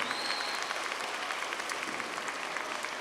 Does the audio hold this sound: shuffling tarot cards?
no